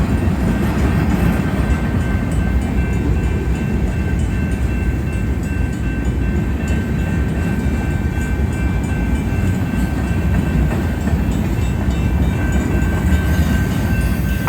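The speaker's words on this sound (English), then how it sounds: "Yeah, 7 locomotives on this train." A Union Pacific freight train led by seven locomotives, a manifest train, rolls slowly past, giving a loud, steady rumble of rail cars with a faint high whine throughout, close by and alone with no talk.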